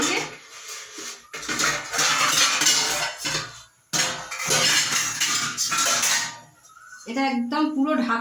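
Metal biryani pot being covered and a stone grinding pestle set on its lid, giving loud clattering and scraping clanks of metal and stone in bursts over several seconds, with a brief pause midway.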